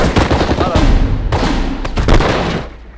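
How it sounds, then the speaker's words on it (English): Automatic weapon fire from German troops in Steel Division 1944, a World War II strategy game, crackling in dense bursts of rapid shots and booms, loud and continuous, with voices mixed in. "German grenadiers are firing at us."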